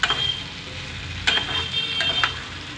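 Tempering spices sizzle and crackle in hot oil in a pan for raw banana fry, a steady close hiss broken by a few sharp pops and light stirring clinks.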